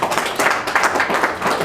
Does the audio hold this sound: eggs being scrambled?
no